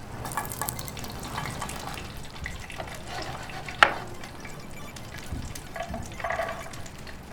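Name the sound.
sautéing pepper and onion in olive oil in a pan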